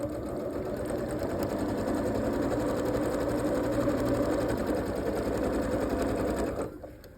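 Sewing machine stitching a border strip onto a quilt, a close, steady rapid hum held for several seconds before stopping abruptly near the end.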